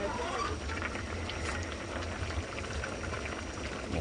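A pot of vegetable stew bubbling steadily at a low rolling boil, a soft continuous burble with faint pops, fairly close and quiet.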